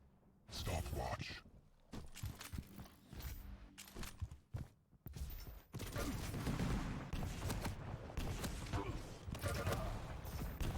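A match of Quake, an arena shooter, is full of rocket blasts, gunfire and thuds. The fire comes in irregular bursts and then a dense, sustained stretch of combat, with a commentator talking over it.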